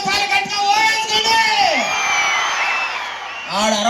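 An outdoor crowd at the Sri Sri Sri Poleramma Jatara musical night roars with whoops, yells and cheers, loud and sustained for several seconds before a fresh swell of shouting at the end.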